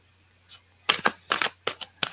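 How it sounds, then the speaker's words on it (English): A deck of oracle cards gets shuffled up close: several quick, crisp rustling bursts in a loose rhythm after a faint first flutter, with no talking. "I give the cards one big shuffle"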